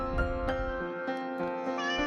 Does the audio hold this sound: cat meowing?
yes